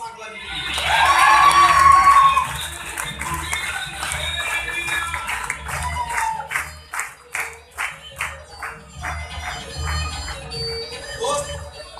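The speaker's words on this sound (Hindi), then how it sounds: "एक बार जोरदार तालियां, जबरदस्त तालियां" A large crowd claps and cheers loudly at a lecture event, with shouts and whoops at first that give way to a rhythmic, fading round of clapping.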